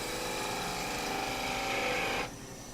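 A lathe tool cuts a wooden spindle during a spindle-turning demonstration, giving a steady loud rough shaving hiss over the motor's hum that stops abruptly near the end, leaving the lathe running alone.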